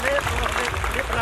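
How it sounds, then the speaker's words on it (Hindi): Applause from an audience at an event honouring a gold medal-winning girl, a short dense burst of clapping heard with voices mixed in. "इसलिए इस बेटी के लिए जोरदार तालियां।"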